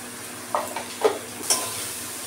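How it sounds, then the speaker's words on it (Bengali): Cumin and turmeric powder dropped into hot oil, a steady sizzle broken by several short stirring scrapes and clinks, close and fairly loud. "এবার দিয়ে দিচ্ছি জিরে, হলুদ গুঁড়ো"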